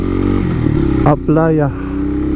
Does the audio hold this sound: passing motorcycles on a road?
yes